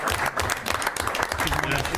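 Attendees at a village board meeting give a short round of dense, steady applause lasting a couple of seconds.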